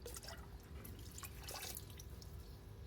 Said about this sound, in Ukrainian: Тепер цю каву вливаємо в квас.